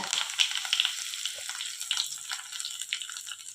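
Mustard seeds, cumin, urad dal and curry leaves sizzle in hot oil and ghee, a steady close crackling hiss with small pops, no voices.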